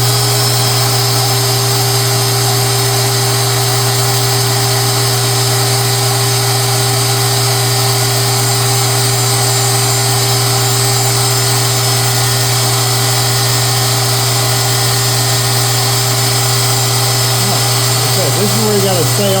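A lathe running live tooling to cut an 18 TPI thread on a joint collar, a loud steady machine drone with a constant hum, holding unchanged throughout with a slight added disturbance near the end.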